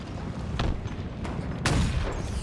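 Sniper rifle shots in a Halo esports match: a few sharp cracks, with the last the loudest, ring out over steady crowd and game noise.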